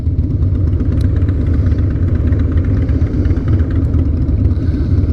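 A Harley-Davidson motorcycle engine idles close by with a loud, steady, deep rumbling lope that holds without revving for the whole stretch, with no voices.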